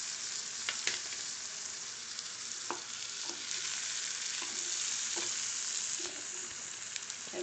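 Tomatoes and capsicum sizzle and fry steadily in a pan for Mumbai-style black pav bhaji, a close, continuous crackle broken by light stirring scrapes and taps.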